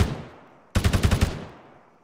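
Enemy machine gun fire in the Arma 3 military shooter comes as one sharp burst of about seven rapid rounds after a decaying echo from an earlier shot, ringing loud and close before fading out.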